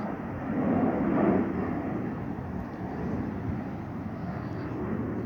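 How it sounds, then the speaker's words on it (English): A steady, broad roar of a jet airplane climbing overhead, holding loud and even throughout without other sounds. "There's another airplane."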